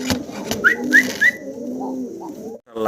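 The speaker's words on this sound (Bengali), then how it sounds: "চমৎকার আরও একটা জোড়া দেখাচ্ছি মডার্না কবুতর, দেখার মতো" A breeding pair of fancy pigeons cooing close by, with soft low coos and a few short whistled calls over a couple of seconds, heard without talking.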